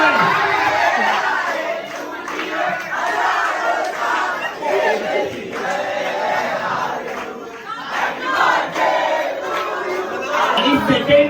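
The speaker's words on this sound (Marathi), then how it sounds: "ताली बजती रही है जोरदार" Cheering and loud crowd noise at a baby shower, a dense mass of shouting voices and chatter that swells toward the end, with no clear separate clapping.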